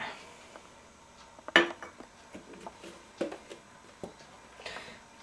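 A utensil mixes ingredients in a dish, including oil and canned tuna with its liquid, producing sparse scattered clinks and scrapes of metal against the bowl, one sharper knock standing out among the quieter taps.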